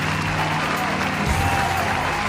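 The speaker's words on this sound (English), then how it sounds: "followed by a round of applause and cheer from the crowd" A crowd at a wedding-style celebration for Sharon and Tyler applauds and cheers loudly, a dense continuous wash of clapping and voices filling the whole short stretch.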